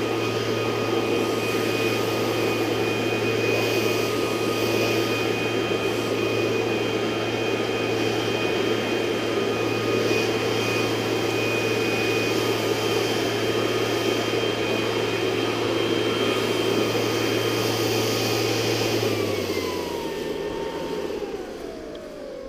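A Ryobi 40V battery backpack leaf blower running outdoors while leaves are piled, a steady loud whooshing drone with a constant motor whine that holds for about twenty seconds, then winds down near the end, with no talking.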